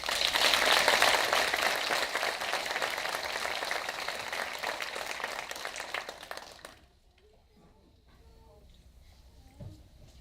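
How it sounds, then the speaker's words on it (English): Audience applauding graduates at a Person County Schools Virtual Academy graduation ceremony, a dense, steady wash of clapping that carries for about six seconds, then cuts off abruptly to quiet room tone with faint distant sounds. "if you would join me one more time in applauding this achievement"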